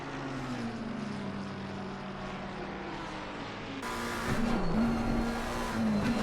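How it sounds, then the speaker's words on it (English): A McLaren race car in a video game races downhill at Bathurst's Mount Panorama circuit. Its engine note holds steady, then swells louder and rougher as it revs higher, with a faint tire squeal. "The descent down the mountain in a McLaren is just absolutely terrifying"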